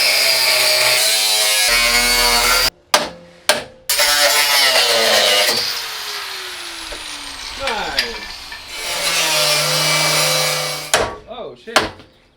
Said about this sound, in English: I cut them off with our new angle grinder.